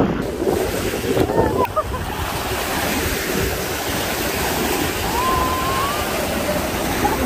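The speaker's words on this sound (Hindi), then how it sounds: "उसमें इतनी ज्यादा हवा चल रही है कि बहुत ठंडी लग रही है" Strong wind blowing at the Corniche beach, a loud constant roar buffeting the microphone over surf, with faint voices in the background.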